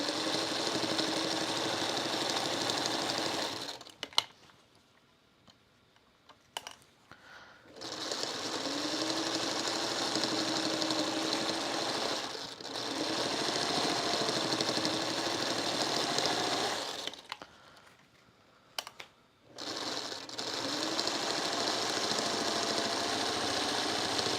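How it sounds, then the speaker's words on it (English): A sewing machine runs a narrow 1/8-inch stitch around all four sides of a folded star quilt block, holding the layers together. Steady stitching runs in long bursts, stopping briefly twice with quiet gaps. "I'm taking a very narrow 1/8 of an inch stitch around all 4 sides to hold all of my layers in"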